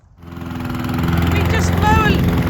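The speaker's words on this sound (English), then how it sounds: "We mow a little patch when we find a new place to plant with the good old push me pull you mower" An old push-pull lawn mower starts up and runs steadily on a farm, its engine rising from a low rumble to a constant drone as the clip goes on.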